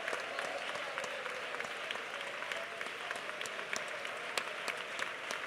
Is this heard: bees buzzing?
no